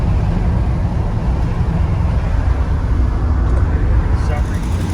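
A 1975 International 200 pickup with a carburetor that needs work cruises at about 60 mph, giving a steady, loud drone of engine and road noise that stays even throughout.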